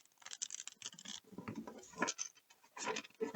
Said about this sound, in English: I'm getting called to do another bridge shuffle here.